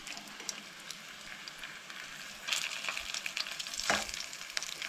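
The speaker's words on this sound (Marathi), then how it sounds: "तुमी तेलान सुद्दां सोडून फ्राय करूं शकता ही कटलेट" Vegetable cutlets made with rice flour fry in shallow oil on a tawa, giving a steady close sizzle with louder crackling bursts in the second half as the pieces are turned.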